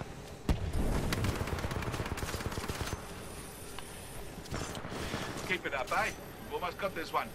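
Rapid bursts of futuristic gunfire from the first-person shooter Titanfall 2 crackle and boom in dense volleys, loud and close at first, then thinning into scattered shots mixed with game effects.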